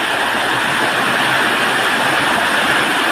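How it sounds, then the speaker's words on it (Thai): Loud, constant roar of a rushing waterfall, a dense wash of noise with no pauses or voices. "น้ำตกเสียงดังแรงมากครับ"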